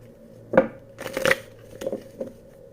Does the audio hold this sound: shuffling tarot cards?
yes